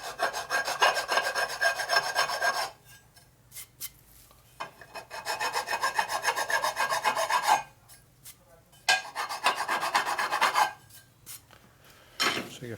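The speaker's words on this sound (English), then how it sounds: "So you can file that down." Hand file rasping over a drop mark on a 1947 Harley-Davidson EL knucklehead 74ci engine case, in three long bursts of steady back-and-forth strokes separated by pauses, close and fairly loud.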